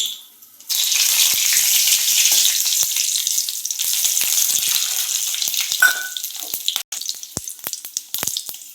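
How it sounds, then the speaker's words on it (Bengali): Tempering spices dropped into hot oil, for a curry with egg, potato and cauliflower, erupt into a loud, sudden sizzle that holds as a bright steady hiss, with scattered crackles and a few utensil clicks toward the end. "তো গাইজ আমাদের তেল গরম হয়ে গিয়েছে, একে একে ফোড়নের উপকরণগুলি দিয়ে দিচ্ছি।"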